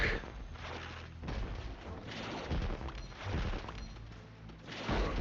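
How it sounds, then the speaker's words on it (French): Loud booming and crackling bursts of fireworks in the video game Skylanders Swap Force, going off in rapid overlapping volleys with a few short lulls between them. "le mec il fait des feux d'artifice quoi."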